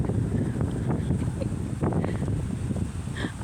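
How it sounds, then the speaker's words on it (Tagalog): Strong wind on a windy day out to Hinton roars steadily into the microphone with heavy low buffeting, loud and close, and a voice is faintly heard underneath. "Lakas ng hangin dito guys."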